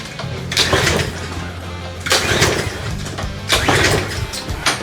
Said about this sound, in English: Let me try starting it a couple times first just to see.